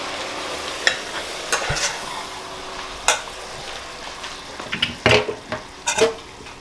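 Fat is drained from a pan of browned ground meat: a soft, continuous sizzle runs underneath while a utensil scrapes and clinks against the pan at irregular intervals, close by.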